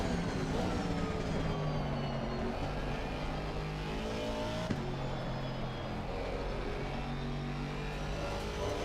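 A GT3 race car engine drones continuously at Spa in the racing game Assetto Corsa Competizione, holding a high, steady tone with shifting pitch and one brief gear change, and no voices heard.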